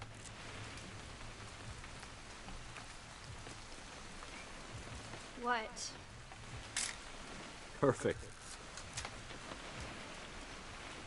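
Steady rain falls throughout a scene in the video game What Remains of Edith Finch, a soft continuous patter at low level, broken by a few brief voices and sharp mechanical clicks.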